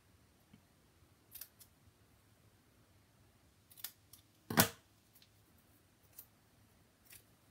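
Scissors snip through a paper butterfly card piece in a few separate cuts, quiet and close, with one sharper, louder snip near the middle and long pauses in between.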